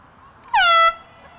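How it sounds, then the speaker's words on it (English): A single short, loud blast of an air horn at a field hockey game, bright and tonal, lasting under half a second against quiet background noise. "We had 3 phone recordings of that air horn."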